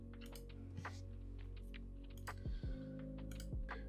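Computer mouse or keyboard clicks tick out sparsely and close over a low electrical hum, quiet and with no talking.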